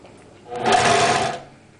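A TuffSew portable industrial walking foot sewing machine runs in a single short burst of rapid stitching, a steady mechanical whir rising and fading close by, with no talking.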